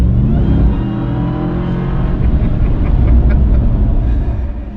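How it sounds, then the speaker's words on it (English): A supercharged 2021 Ram TRX truck engine revs and roars continuously up close, a deep rumbling growl that rises and holds steady for several seconds. "sometimes you just want to listen to the monstrous engine."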